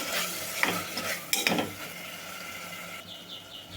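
Potato curry ingredients frying in a pan over medium flame, sizzling steadily while a spoon stirs and scrapes, with a few louder clatters against the pan partway through.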